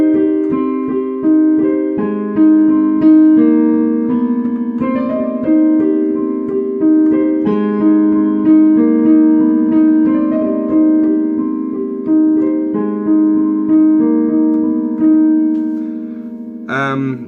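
A piano plays the Candy Man theme alone, with steady rhythmic chords under a melody for about seventeen seconds before a final high accent.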